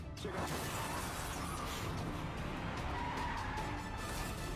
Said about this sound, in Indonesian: Dan tiba-tiba mobil Pak Oh dihantam oleh truk